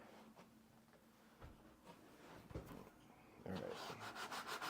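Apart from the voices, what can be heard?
sanding a white hat with sandpaper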